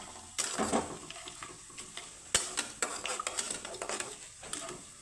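Boondi for motichoor laddu fry in hot oil, a soft sizzle running under sharp metal clinks and scrapes of a stirring spoon against the pan, irregular and close.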